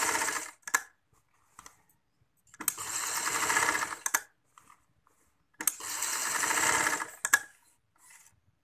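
A sewing machine stitches elastic into trousers in three short bursts of whirring. The bursts are separated by quiet gaps with small clicks from handling the fabric.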